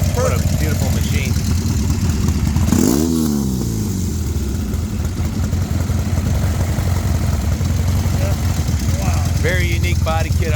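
Norton Commando motorcycle engine running steadily nearby, a continuous throbbing rumble with a brief rise in revs, while people talk over it.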